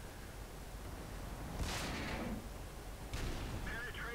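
A King Tiger's tank gun fires at an enemy tank during a World of Tanks battle, two sharp booming shots spaced about a second and a half apart over steady engine rumble and faint talk.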